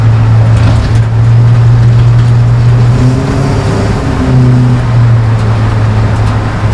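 Interior drone of an LS-swapped 1953 Chevy 3100 patina farm truck with an automatic transmission while driving: a loud, steady low engine hum and road noise, with a brief pitch shift midway as the engine note changes.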